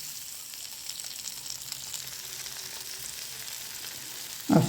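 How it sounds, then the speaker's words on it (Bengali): Fish mash ingredients with green chillies lightly frying in a pan, a steady soft sizzle running throughout with a louder clatter right at the end. "হালকা ফ্রাই করব।"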